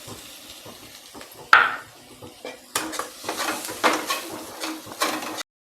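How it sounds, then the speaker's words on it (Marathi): A spoon clinks and scrapes against a pan as gram flour is stirred while it dry-roasts, giving a series of close, irregular metallic knocks and scrapes with no talking. "हे तर मी भाजून घेत आहे"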